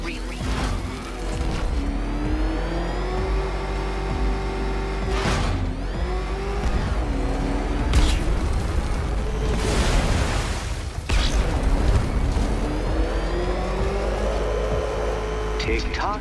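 Batmobile engine in Batman Arkham Knight roaring and racing at steady high volume, with whooshing passes, booming impacts and rising revs throughout, while a voice speaks over the game sound.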